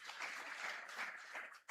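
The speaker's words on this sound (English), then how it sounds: "Can we clap for him for that?" Audience at a national conference of school principals in Kenya applauding a top student, a dense, steady wash of clapping that holds for under two seconds and swells again at the end.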